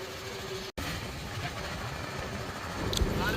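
Boat engine running steadily on a boat ride at Vrindavan, a continuous broadband rumble and hiss with water and wind noise, rising slightly toward the end.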